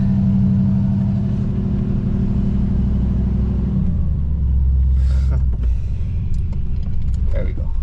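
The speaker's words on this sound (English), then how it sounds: "Give it a couple of revs." A Ford Fox Body Mustang engine idles with a loud, deep rumble, then rises in a couple of revs and settles back, with creaks and knocks near the end.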